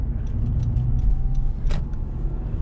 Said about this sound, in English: that car there is coming straight through